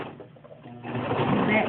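A domestic sewing machine stitches around a garment sleeve in a steady, close whirring run that picks up and grows louder after a quieter start, with a voice speaking faintly in the background.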